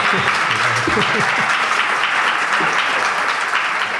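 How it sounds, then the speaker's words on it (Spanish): Loud, sustained audience applause, a thick continuous roar of clapping with a few voices talking over it early on. "podéis aplaudir"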